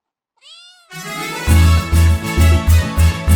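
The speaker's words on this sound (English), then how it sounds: "C for cat" A cat gives a short rising meow, then louder drawn-out meows over the pulsing rhythmic backing beat of a children's ABC alphabet song.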